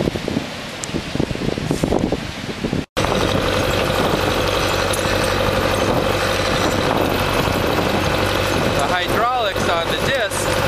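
A tractor pulls a disc harrow through field soil, cutting and softening it. A loud, continuous engine roar and rough grinding rumble carry on after a brief cut-off, with some wind buffeting.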